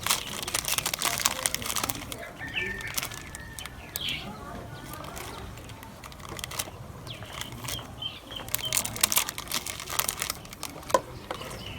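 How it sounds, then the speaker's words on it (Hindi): Plastic Oreo biscuit packet being cut open and crinkling, continuous rustling and crackling close by for the whole stretch, with faint bird sounds from a village setting in the background. "हम ओरियो पैकेट को अच्छी तरह काट लेंगे ऊपर से"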